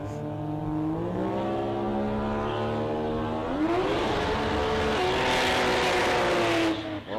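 Sports compact drag car launching at a drag strip, its loud engine rising in pitch as it revs hard, with a harsh tire skid and broad roar building through the run.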